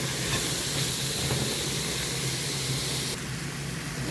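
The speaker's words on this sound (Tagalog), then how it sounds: "Habang ginigisa ang ating mga sahog" Onions and other ingredients for adobong sitaw sizzle in a pan, a constant loud steamy hiss that runs unbroken and close throughout.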